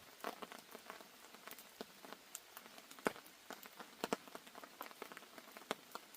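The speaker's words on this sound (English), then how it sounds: "I don't know if you can hear, but it is raining." Rain pattering onto a tarp at a wild camp near Ben Nevis, a steady soft hiss broken by many close, sharp drip taps at irregular intervals, heard alone with no voices.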